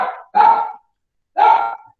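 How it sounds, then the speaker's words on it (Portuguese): Two sharp barks from small dogs, near and fairly loud, separated by about a second of silence, with no talk over them. "só para ver se eu faço esses cachorrinhos para de latir"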